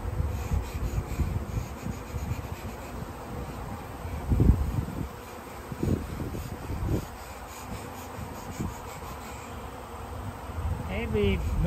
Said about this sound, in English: See how effective it is in driving the bees down.